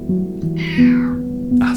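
A cat meows in a drawn-out, rising and falling call, close and fairly loud, alone with no talking over it.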